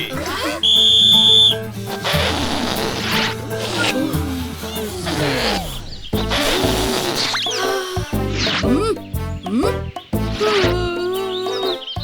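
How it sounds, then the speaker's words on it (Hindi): A whistle blows a short, steady, shrill tone in a Hindi kids' cartoon to start a balloon-blowing contest, followed by bustling cartoon music and effects. "और ये बजी सीटी।"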